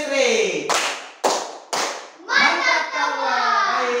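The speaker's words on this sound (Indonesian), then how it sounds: "Kita kasih tepuk tangan dulu untuk kelompok arus listrik" Brief classroom clapping for a student group that presented on electric current, a few sharp bursts of claps between children's chatter and a teacher's voice, close and lively.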